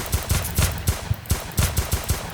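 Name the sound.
gunfire in the video game Roblox Deadly Heist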